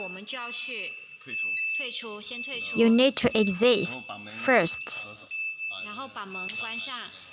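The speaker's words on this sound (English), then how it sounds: "once you open the door, the machine will alarm." A multi-lane liquid packing machine for ice lollies sounds a steady high electronic door-open alarm tone continuously beneath a person talking throughout.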